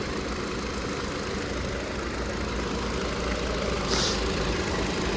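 A Nissan Qashqai engine idles quietly and steadily, a low, even hum with a faint rattle. It runs alone without talk, with a brief soft hiss near the end.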